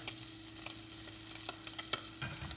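Bacon sizzles and crackles in a pan, a close, steady fry with scattered sharp pops and spatters throughout.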